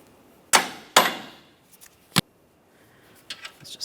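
A rubber mallet taps a Jeep Patriot subframe crossmember into position: two sharp knocks, a pause, another knock, then lighter clinks and rattles of metal parts, close.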